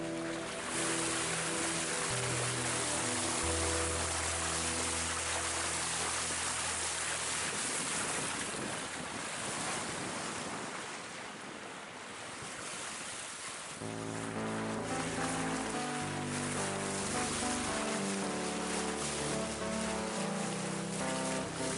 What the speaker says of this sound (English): listening to the water swishing past the side of the hull